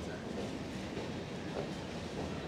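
A train passes nearby as a steady rumbling clatter of rolling wheels on rails, continuous and moderately loud with no voices.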